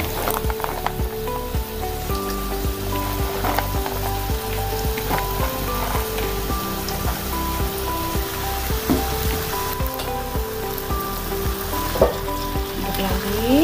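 Chicken, green beans and bean sprouts stir-frying in a pan, a steady loud sizzle with repeated scraping and clacking of a spatula, no voices.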